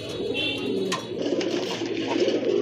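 A large pair of Red Bombay pigeons in breeding mode coo in low, repeated burbling notes, near and steady, with a short sharp tick partway through.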